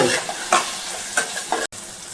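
Tomato pieces fry in oil in a pan, a close hissing sizzle punctuated by several scraping stirs, with a brief cut to silence near the end.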